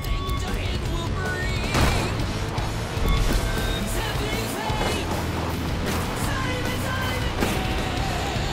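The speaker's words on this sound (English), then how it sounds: "That ATV could flip on the landing." Game-engine ATV from Far Cry 5 racing over wooden ramps, a steady engine drone running throughout with a heavier thump near three seconds as it lands, game music and effects layered beneath.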